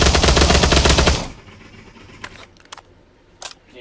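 A FAMAS rifle in the VR shooter Pavlov lets off one loud, dense automatic burst lasting about a second, followed by a few faint clicks and handling noises.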